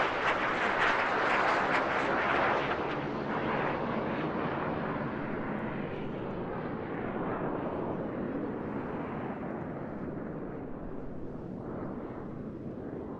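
A 54-year-old aircraft flies past at the Eastbourne International Airshow, its engine roar loud and broad at first, then slowly easing as it moves away.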